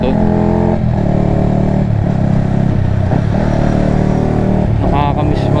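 A motorcycle engine runs loud and close while riding on a road, droning steadily, with pitch shifts as it revs and changes gear.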